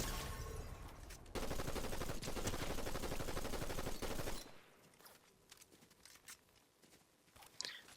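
Rapid gunfire in Fortnite, a sustained close burst of automatic shots lasting several seconds, then breaking off into scattered fainter pops and clicks.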